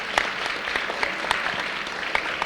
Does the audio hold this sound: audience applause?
yes